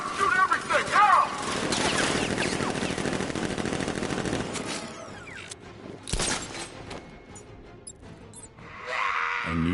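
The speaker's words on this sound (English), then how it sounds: "Gun! Open fire! Shoot everything!" Militia gunfire in the game Batman: Arkham Knight, dense automatic bursts rattling steadily for the first several seconds, then thinning into scattered shots and a sharp crack, with voices talking over the fighting.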